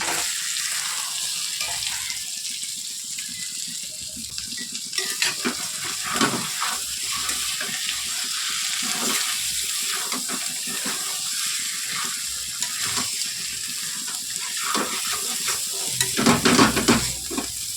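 Butter paneer masala with potato and peas, stirred and fried in butter, giving a steady close sizzle with repeated spatula scrapes and occasional louder knocks against the pan.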